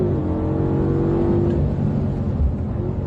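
A BMW M5 safety car engine pulls hard out of a corner, heard from inside as a steady, heavy drone with a tonal whine rising slightly as it accelerates.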